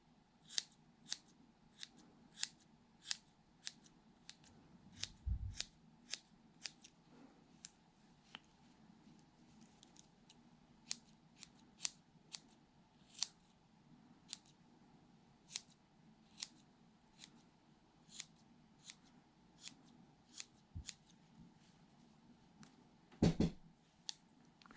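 Scissors trimming the fluffy yarn of a crocheted cactus, many crisp, quiet snips repeating steadily about once a second, close up, with occasional soft rustles and bumps between cuts.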